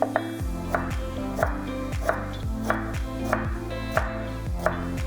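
A knife chopping an onion into large dice on a cutting board, evenly spaced crisp thuds about every half second, close and clear, with no talk.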